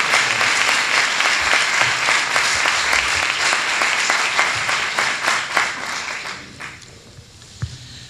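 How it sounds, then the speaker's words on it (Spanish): Audience applause greeting an author at a talk: dense, sustained clapping from a seated crowd that fades out gradually over the last couple of seconds, with one stray clap after. "Hagamos un aplauso, por favor, a don Juan José Benítez."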